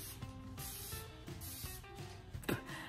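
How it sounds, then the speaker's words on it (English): Quiet, repeated short hissing bursts of a spray bottle spraying hair, several quick pumps in a row at close range. "So I'm going to start by spraying my hair."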